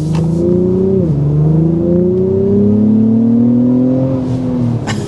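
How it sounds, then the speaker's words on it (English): A 2024 Acura TLX Type S with its turbocharged V6 accelerating hard from inside the cabin, engine note climbing steadily through the gears with a brief dip at a shift, loud and continuous. "first we're going to go ahead and start with a hard acceleration"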